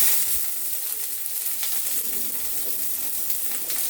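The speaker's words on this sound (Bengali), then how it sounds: "পেঁয়াজগুলো আমি ভেজে নিব ভালো করে" Onions frying in a pan for a mashed taro dish, a steady close sizzle with occasional stirring scrapes and crackles.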